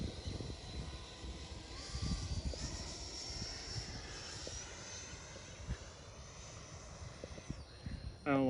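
An electric-converted 100-inch CY Models Cessna Bird Dog RC plane on landing approach gives a steady propeller and motor drone overhead, with wind and handling noise and a brief voice near the end.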